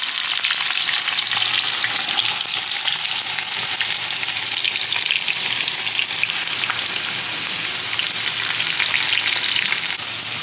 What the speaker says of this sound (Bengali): এই জন্য আমরা প্রথমে তেলে পেঁয়াজ ভেজে নিচ্ছি।